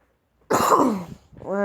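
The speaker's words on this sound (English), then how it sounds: "I kind of have a cough today" A single harsh, close cough from a sick person at night, one loud rasping burst followed immediately by quiet speech.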